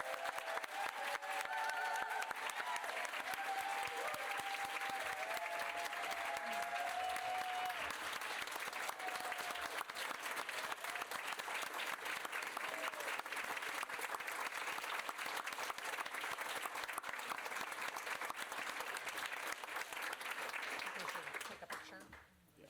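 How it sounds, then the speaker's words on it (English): Sustained applause from an audience at a school board meeting, steady clapping for over twenty seconds with some cheering mixed in, fading out at the very end. "Let's give them a big round of applause."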